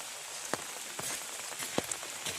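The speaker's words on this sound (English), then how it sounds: "Yeah, it's raining now." Rain falling outdoors during a storm on a catfishing trip, a steady hiss of rain on surfaces with scattered louder drop impacts and taps, moderately close, no voices.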